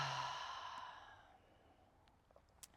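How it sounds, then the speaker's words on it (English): A deep, slow exhale during a yoga session, a breathy sigh that starts strong and gradually trails off into near silence, with a faint click at the end. "Let's take a deep inhale in. Full exhale out."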